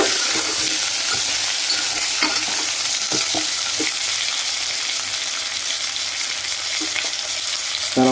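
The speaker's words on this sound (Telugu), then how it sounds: "కొంచెం 1/2 టీ స్పూన్ పసుపు వేద్దామండి. ఇది అన్నీ కలుపుకోవాలండి ఒకసారి." Eggplant curry being stirred in a pan after turmeric goes in, a steady loud sizzle of frying with occasional scraping clicks of the spoon against the pan, close up and without voices.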